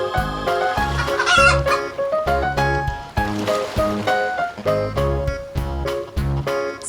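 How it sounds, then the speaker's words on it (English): A farmyard chicken clucks in short bursts over a loud, rhythmic music track with a steady beat. "Chicken."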